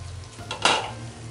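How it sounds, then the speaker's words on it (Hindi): Capsicum cooks in a simmering gravy in a pan, a soft bubbling hiss broken by one brief metallic scrape of a utensil against the pan. "3 मिनट फ्लेम को मीडियम करके शिमला मिर्च को भी ग्रेवी में हम कुक कर लेंगे।"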